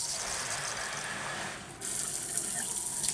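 Water from an outdoor shower fixture on its handheld setting rushes in a steady hiss, with a short dip partway through before the spray comes back brighter and slightly louder.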